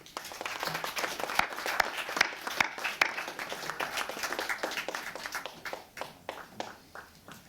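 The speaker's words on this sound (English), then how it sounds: "please give another big applause for our award winners" A ceremony audience at an awards event applauds its award winners, a steady patter of many hands clapping with some louder individual claps, fading out toward the end.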